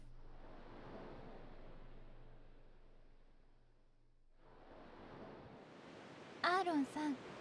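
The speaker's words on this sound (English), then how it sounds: "I can hear the ocean" Ocean waves wash steadily in Final Fantasy X, a soft broadband surge that dips briefly midway and then swells back. A short, bright tonal sound rises over the surf near the end.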